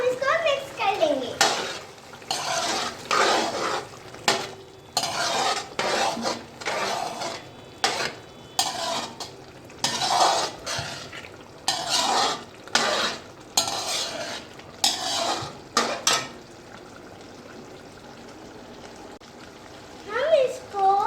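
A spoon stirs chicken karahi in a pan over low heat at a Pakistani street food stall, giving repeated scraping, clattering strokes in a steady rhythm, loud and close, with a voice speaking over parts of it.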